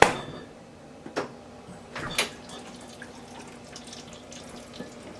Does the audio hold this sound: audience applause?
no